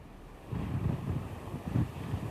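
Hurricane Harvey's gusting winds buffet a reporter's microphone outdoors, giving a steady low rumbling roar that swells in irregular pulses, with no talking.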